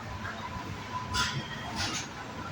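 The Hubballi-Rameshwaram Weekly Express rolls into Salem Junction in the evening, a faint low rumble of rail cars with brief metallic squeals rising twice over the running noise.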